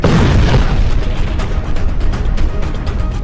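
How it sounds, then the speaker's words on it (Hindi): A bomb blast in Gaza booms loud and continuous, a deep rumbling explosion sustained across the whole span with no voices. "इजरायल का बम गाजा में फटता है"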